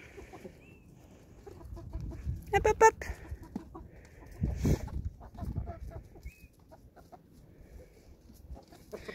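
Hens clucking and squawking close by in a backyard coop as they are let out, a busy flurry of calls, with someone briefly speaking over them.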